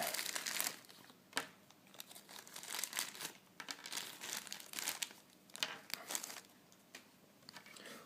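Crinkly plastic packaging of a Dragon Ball Z Goku figure is handled and opened close by, giving repeated soft crackles and rustles in irregular bursts, with no talk.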